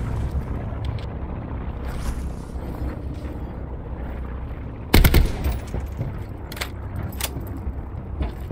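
Gunfire rattles in Call of Duty Black Ops 4: Blackout, a sudden loud close burst midway, then a few sharper scattered shots later over a steady low ambient rumble.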